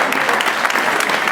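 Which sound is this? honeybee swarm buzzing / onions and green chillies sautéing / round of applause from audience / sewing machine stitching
round of applause from audience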